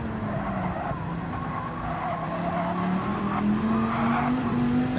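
Viper and Porsche race cars lap a track in a racing video game, their engines droning steadily with a rising pitch as they accelerate, and a tire-squeal edge rides over the continuous roar.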